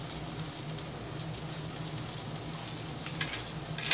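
Tomato fritters (tamate ke bhajiye) frying in a little oil, a steady close sizzle and crackle with bright spattering pops throughout, no talk.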